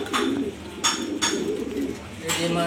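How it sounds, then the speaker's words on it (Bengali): Grizzle pigeons coo nearby, several soft rolling calls repeating in a loose rhythm, with faint background noise. "সব গ্রিজেল কবুতর"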